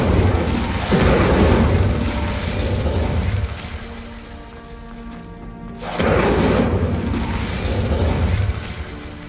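Two loud whooshing bursts of an Incendio fire spell in Hogwarts Legacy roar up, each sustained for a few seconds, separated by a quieter lull with a ringing tonal effect.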